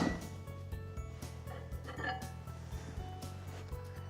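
A spoon scrapes and clinks against a bowl of melted chocolate in steady repeated strokes, close and moderately loud, with a low hum underneath from a Breville Tramontina stainless steel 22-litre smart electric oven.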